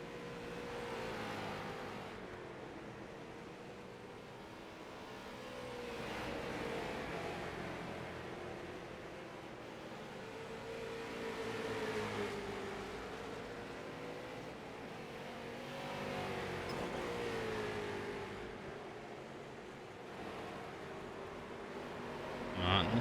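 Street stock race cars run laps at USA International Speedway in a racing simulation, their engines a steady loud drone whose pitch swells and falls as the cars circle, continuous for the whole stretch.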